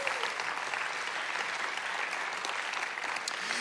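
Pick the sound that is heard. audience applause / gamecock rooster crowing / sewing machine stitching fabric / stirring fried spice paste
audience applause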